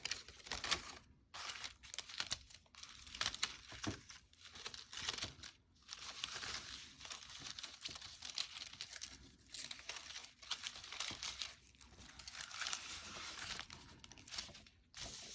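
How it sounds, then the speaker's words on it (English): Paper for a kirigami honeycomb cut crinkles and rustles as it is unfolded, quiet and close, in irregular bursts separated by brief pauses and with no talk over it. "after we have finished unfolding our paper"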